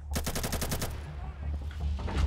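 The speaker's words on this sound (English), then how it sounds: "I don't know where I was getting shot from." Rapid burst of automatic gunfire in the video game Insurgency, about a dozen sharp shots in quick succession, then quieter rumbling game sounds.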